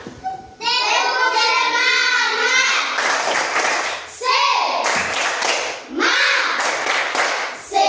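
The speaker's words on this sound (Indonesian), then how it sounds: "Kita tepuk semangat sekali lagi. Tepuk semangat." Schoolchildren in a classroom doing the rhythmic 'tepuk semangat' clap chant, their voices loud and close, chanting together with bursts of clapping that stop and start in several phrases.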